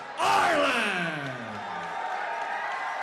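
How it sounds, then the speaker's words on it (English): Arena crowd bursts into loud cheering, whoops and applause for an Australian lightweight champion boxer being introduced at a boxing event, peaking early then settling into sustained clapping and yelling. "Big round of applause"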